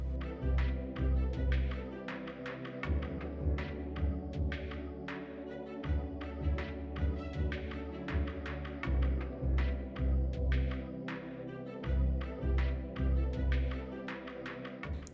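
A sewing machine stitches a seam with a steady, close mechanical whir and a rapid rhythmic tapping, pausing and restarting several times as it back stitches, with no one talking.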